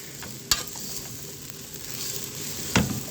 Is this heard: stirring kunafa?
yes